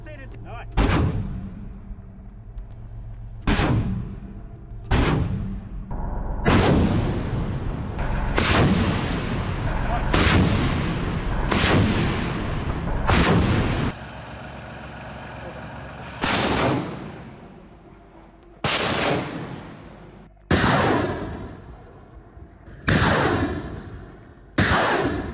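Artillery fire from Russian airborne artillery paratroopers supporting assault units: about a dozen heavy, loud booms at irregular intervals, each a sharp blast with a rumbling decay, some with a whooshing tail.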